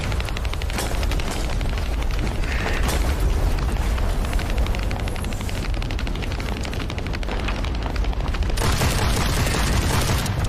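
Dense, continuous gunfire and booming blasts from a fight in The First Descendant's Pyromaniac Intercept Battle, loud and unbroken throughout, with rapid crackling layered over heavy rumbling impacts.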